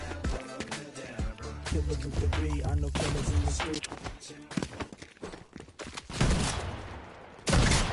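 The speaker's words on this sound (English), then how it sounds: "Godzilla is shooting at me with a shotgun." Shotgun blasts and bursts of gunfire in the video game Fortnite ring out in a loud, busy stretch with footsteps and other game noise, with a voice talking over parts of it.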